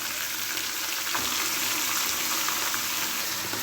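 Chicken pieces for methi chicken sautéing in a pan, a loud, steady close sizzle with faint stirring clatter and no talking.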